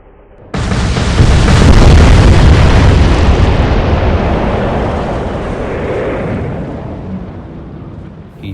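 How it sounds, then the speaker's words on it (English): Massive torpedo explosion effect from a naval battle against German ships: a sudden loud boom after a brief quiet start, rumbling on as a long, slowly fading roar. "In desperation, they launched torpedoes."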